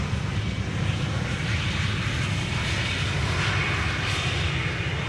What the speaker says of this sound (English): BA in the meantime has landed